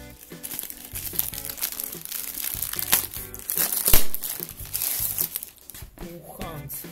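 Plastic packaging bags crinkle and rustle continuously up close while a Uhans A6 phone is unboxed, with busy handling noises rising and falling throughout.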